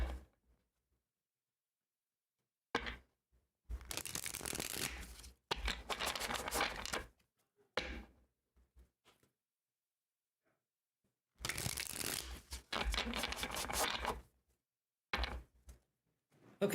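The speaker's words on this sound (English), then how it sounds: "All right, let's shuffle these cards." Tarot cards shuffled close up in several separate bursts of rustling and riffling, with near-silent pauses between them and no voices.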